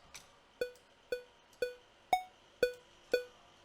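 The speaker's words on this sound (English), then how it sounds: "if I have a click track which sounds like this" Metronome click track at 119 BPM in Ableton: sharp pitched clicks at a steady pulse, about seven in under four seconds, each with a short decay, heard alone.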